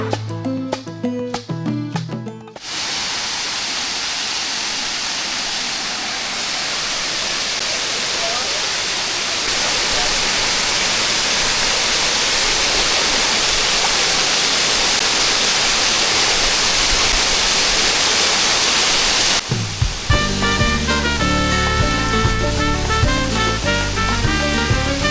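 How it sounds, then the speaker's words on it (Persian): A Caribbean waterfall on Cuba roars as a dense, steady wash of falling water, loud and continuous, with music heard briefly before and after. "آبشار کارائیبی توی بزرگترین جزیره کارائیب"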